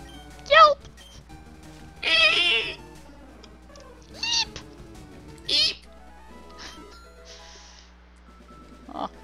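A human voice imitates a cat with several short, high-pitched meow-like cries in separate bursts against a quiet background.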